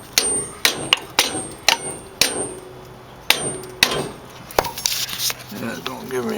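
A hammer whacks a shock bracket on a 1914 car windshield, giving a series of sharp metallic clanks at uneven intervals, close and fairly loud.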